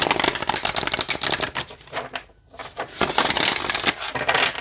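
Rapid papery riffling and flapping of a deck of large oracle cards being shuffled, close and loud, with a brief pause in the middle before the shuffling resumes.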